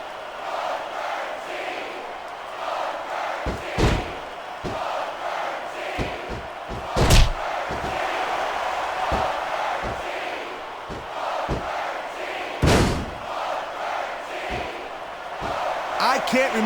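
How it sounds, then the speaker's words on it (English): A wrestling arena crowd at a WWE pay-per-view roars in a continuous loud wash, punctuated by repeated heavy thuds and slams, with commentators talking over it throughout. "I can't remember the last time I seen a crowd so pumped up"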